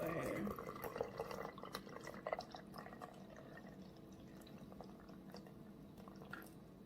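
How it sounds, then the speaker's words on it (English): Sweet tea pours into a glass with a brief splash at first, then soft trickling and dripping, quiet and close. "pour yourself a nice delicious glass"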